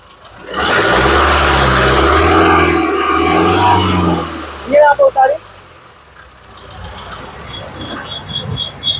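A 2015 Mahindra XUV500 W8 is started while someone talks over a loud stretch, then a few sharp cranking bursts give way to a quiet, low idle.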